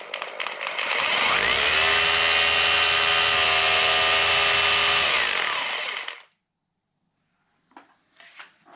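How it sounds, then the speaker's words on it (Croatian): An electric drill runs at full trigger on a Bluetti EB3A portable power station, a loud steady high whine with spin-up and tapering off after about six seconds, followed by quiet and a few faint clicks. "ima dovoljno snage i za neku bušilicu. Ajmo probati stisnuti odmah do kraja."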